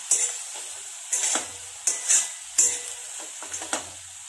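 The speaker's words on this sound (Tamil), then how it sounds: "கருவேப்பிலையும் நல்லா இந்த எண்ணெயோட நல்லா வதங்கிட்டோம்" Curry leaves crackling in hot oil for a country chicken fry, quiet sizzling punctuated by several sharp spatula scrapes and pan clatters at irregular intervals, alone without talk.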